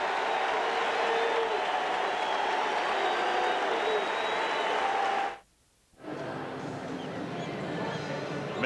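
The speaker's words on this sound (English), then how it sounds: "he'll get a warm round of applause from the crowd in San Francisco." A ballpark crowd in San Francisco applauds during an NLDS playoff game between the Mets and Giants, a steady wash of clapping and crowd noise that cuts out briefly before resuming.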